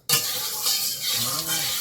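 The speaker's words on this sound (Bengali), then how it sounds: "কড়াইয়ে তেল দিয়ে দিলাম এভাবে হ্যাঁ মাছগুলো ভাজবো" Oil sizzles loudly in a wok (kadai) as small fish, such as mourola and amudi with prawns, are fried. A sudden sharp start gives way to constant bright frying hiss with stirring scrapes.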